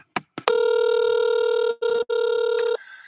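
A telephone call rings out as a bright electronic tone, one long loud burst followed by a shorter one after a brief break, heard clearly with no talk over it.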